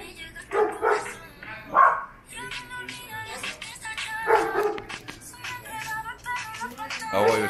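Dogs barking near a bar by a hotel in Sosua, Dominican Republic: repeated excited barks and yips in bursts, close and fairly loud, mixed with voices talking.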